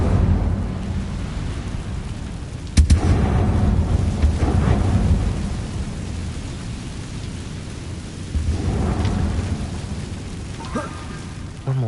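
Incendio fire spell cast in the video game Hogwarts Legacy, a deep rumbling whoosh with a sharp crackling burst near the start and a second surge later, loud and close, with no talk over it.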